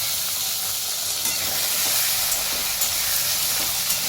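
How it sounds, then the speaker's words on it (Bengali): Potatoes and onion frying in a pan for patties, a steady close hissing sizzle that stays even throughout, with no voices. "এবার একটু ভালো করে ভেজে নেব।"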